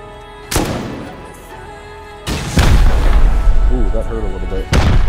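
Rocket launcher blasts in the video game Rust: two or three heavy booming impacts with a rumbling tail, loud and close, spaced a couple of seconds apart.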